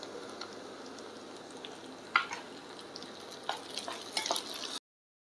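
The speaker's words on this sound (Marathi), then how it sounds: "तर आपला कांदा थोडासा लाल झालेला आहे। आता आपण त्याच्यात थोडंसं टमाटर टाकूया।" Tomato added to browned onion frying in a pan for a drumstick-leaf vegetable dish: a faint, soft sizzle with scattered light ticks and crackles, ending abruptly in silence.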